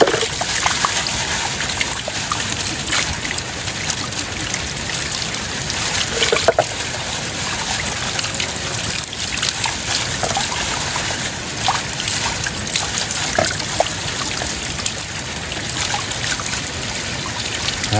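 Water runs and trickles steadily into a basin as vegetables are washed, a constant close splashing wash with faint clatter and no voices.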